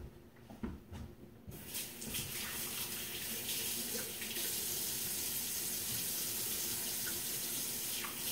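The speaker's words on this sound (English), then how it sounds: "But I'm going to wash my hands first." Hands are washed under a running kitchen tap, a steady close rush of water starting after a second and a half of faint handling noises and continuing evenly to the end.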